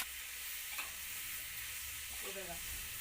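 Vegetables and tomatoes are stir-fried in a kadai, giving a soft, steady sizzle with faint stirring scrapes, fairly quiet and without talk.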